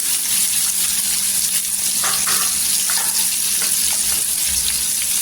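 Tomato, green chili and turmeric sautéing in hot oil make a loud, continuous sizzle, broken by a few brief stirring scrapes near the middle, with no one talking.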